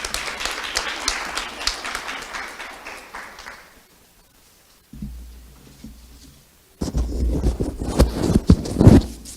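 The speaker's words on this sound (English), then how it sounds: "let us give our keynote speaker, May Hazelton, a round of applause" Applause for a keynote speaker at a virtual MLK commemoration breakfast, a patchy burst of clapping that fades into near silence, then brief low hum, then louder dense clapping returns at the end.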